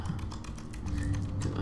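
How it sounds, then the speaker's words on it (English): Rapid clattering of computer keyboard keys being pressed at random, a dense run of close, moderately quiet taps with no talking. "And I'm just randomly pressing every key on my keyboard."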